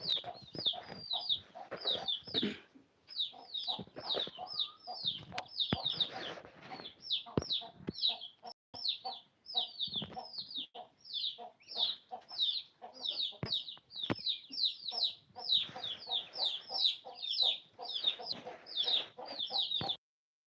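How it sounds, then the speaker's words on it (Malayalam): Small chicks outside make rapid, high-pitched chirps in dense bursts that continue throughout, close and clear, with occasional soft rustling underneath. "അതെ, കോഴിക്കുഞ്ഞുങ്ങൾ, ചെറിയ കോഴിക്കുഞ്ഞ്."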